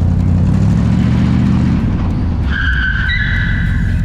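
A car brakes hard in a real-life recreation of a parking-lot brake test: a loud, steady engine roar sounds throughout, then high tire squeals break in about halfway through and hold to the end.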